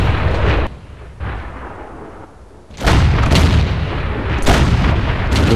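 Artillery fire in the World of Tanks video game: deep booming impacts and blasts strike a tank in bursts, loud and close, with quieter gaps between the hits and no talking.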